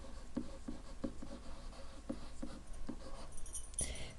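Marker or chalk writing on a classroom board, a steady series of scratchy strokes and taps laid down in a quick rhythm, close and clear with no talking.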